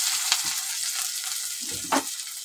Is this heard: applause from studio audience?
no